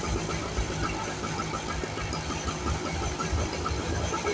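A cheap portable generator engine runs rough and uneven, close and steady, with a knocking, sputtering idle that sounds ready to stall.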